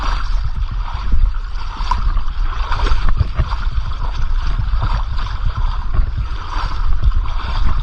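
Water rushes over a river weir in a continuous loud, turbulent gurgle, steady throughout with no voices.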